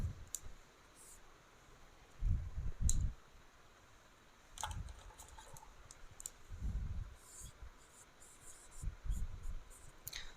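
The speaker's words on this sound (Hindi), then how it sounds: "यहीं पे हम लिख रहे हैं" Marker or chalk on a classroom board while a teacher works, intermittent scratching and tapping strokes in small clusters over a low background hiss, close but quiet.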